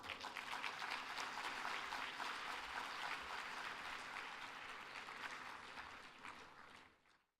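Audience applause welcoming Ambassador Robert Blake at the 2016 ICFP opening ceremony, a steady crowd clapping that holds for several seconds before tapering off and ending abruptly.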